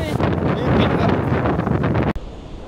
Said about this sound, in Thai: ลมแรงมากทุกคน แรงมากๆอ่ะ